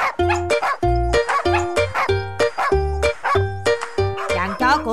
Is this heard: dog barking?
yes